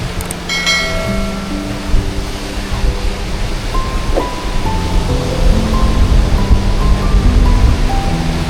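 Sea surf rolls steadily outside a beachside room at Devbag Beach in Malvan, a constant broad wash of waves running the whole time beneath a melodic musical line, with no talking.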